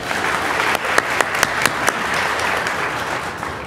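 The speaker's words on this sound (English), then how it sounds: "Go ahead, you guys can clap." An audience claps for a student named at a middle school 8th grade promotion ceremony, a steady wash of applause with several sharper individual claps standing out, moderately loud throughout.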